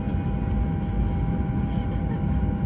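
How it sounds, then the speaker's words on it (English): A steady low airplane engine and cabin roar from an aircraft at Denver while boarding a flight to Los Angeles, constant and loud with no break. "We are getting on a plane to go to Los Angeles."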